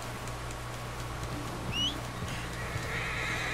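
A horse in the Red Dead Redemption 2 video game whinnies once, a short rising neigh in the middle, with soft hoof clip-clops and a steady low ambient hum around it and no talking.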